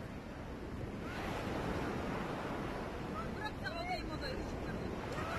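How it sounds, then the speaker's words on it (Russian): Sea surf washes steadily onto a beach at night in Turkey, a continuous soft rush of waves with some wind on the microphone and faint voices in the background. "Слышите море?"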